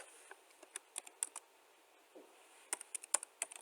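Keys on a computer keyboard are typed into a drafting program in quick, irregular bursts of light clicks. A short pause falls in the middle, and the room is otherwise quiet.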